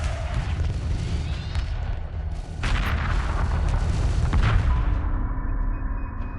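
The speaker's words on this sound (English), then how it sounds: "Just lobbing missiles at enemies." Missile boats in the real-time strategy game Homeworld Remastered firing missiles in space combat, a continuous rumbling barrage of booms and whooshing launches layered over one another, swelling in the middle.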